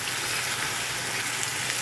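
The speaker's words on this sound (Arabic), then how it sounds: "وهتسيبي اللحمه تستوي شويه في الصلصه دي" Minced meat simmering in tomato sauce for a béchamel pasta bake gives off a steady, close sizzle and bubbling that holds evenly throughout, with no talking.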